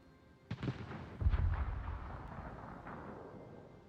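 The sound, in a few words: naval gunfire and shell hits in video game World of Warships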